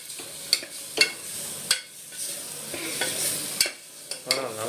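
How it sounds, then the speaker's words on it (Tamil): A spoon scrapes and clacks against a pan while red meat masala sizzles softly on a home stove, with sharp stirring strokes every second or so over a steady low fry. "போட்டு நல்லா வந்து கிளறி விடணும்"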